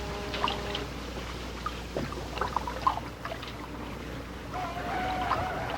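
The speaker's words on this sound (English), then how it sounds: "listening to the lapping of the waves" Water laps softly against wooden ships moored at a wharf, making a low continuous wash with faint trickles and splashes. Occasional light creaks sound over the gentle moderate-level background, with no speech.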